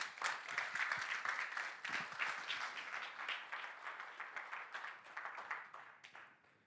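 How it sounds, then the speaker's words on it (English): An audience applauds to welcome a speaker: sustained, dense clapping from many hands that holds steady, then gradually thins and fades out. "we should all be crescendoing with our applause and our welcomes too"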